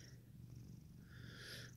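A Siamese cat's close, steady purr fills the short stretch, a soft continuous low rumble with faint higher background sounds and no voices.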